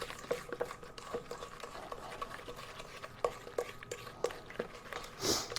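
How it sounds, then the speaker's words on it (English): Red sauce for meatloaf is stirred in a bowl, with a steady run of soft scraping and clinking utensil strokes, close and moderately quiet, with no talk. "now we've got to stir this up"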